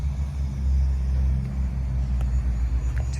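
A 2023 Ford Explorer Timberline with a 2.3-liter turbo engine idles nearby in a steady low rumble, no voices.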